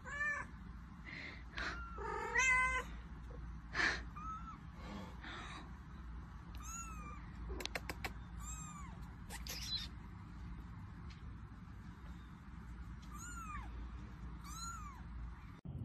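A mother cat and her kitten meow repeatedly in short, high calls scattered over a steady low background hum, with a few brief louder cries near the start.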